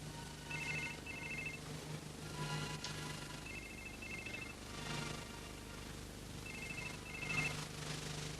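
A telephone rings in a quiet room in a Pakistani TV drama, with repeated paired electronic trills recurring at regular intervals, faint against low background hum.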